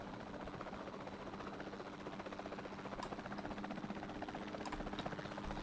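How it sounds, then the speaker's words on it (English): A helicopter in the dinosaur park game Jurassic World Evolution 2 hovers with a steady, rhythmic rotor chop and buzzing drone, fairly quiet and continuous throughout, with no talking. "Let's keep the helicopter on him."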